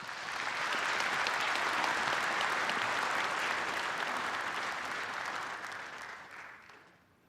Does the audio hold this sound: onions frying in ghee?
no